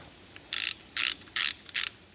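Four quick bursts of ratcheting clicks as a tire plug tool is tightened on a Porsche GT3 RS tire, each short ratchet stroke close and crisp with brief pauses between.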